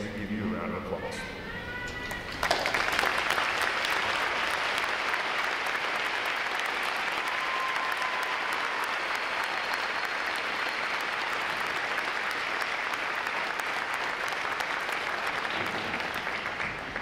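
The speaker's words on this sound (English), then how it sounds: "Will all veterans please stand so we give you a round of applause." Sustained audience applause for veterans at a U.S. Navy recruit training graduation ceremony, a dense crowd clapping steadily for about fourteen seconds after a brief spoken announcement at the start.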